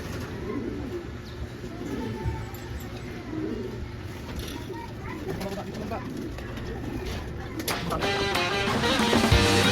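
Racing pigeons coo softly at a loft during a race lap, low repeated coos under outdoor ambience, with people talking nearby toward the end.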